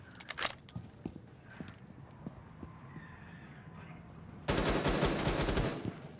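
Gunfire in the Rainbow Six Siege video game: a couple of sharp early shots, scattered light clicks, then a loud, sustained burst of rapid automatic fire near the end.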